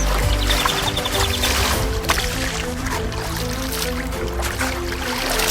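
Animals wade chest-deep through a river in the African savanna during a deadly drought, a steady rush of churning, splashing water that runs on without break, with a faint tonal bed underneath.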